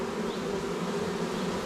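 A honeybee swarm at a hive entrance, a dense, steady buzzing drone of many bees close by, continuous and even without pauses.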